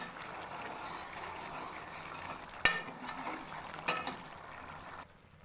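Black chickpea curry fries and is stirred in a pot, producing a soft, continuous low sizzle with a couple of sharp knocks from a spoon against the pot, and no speech.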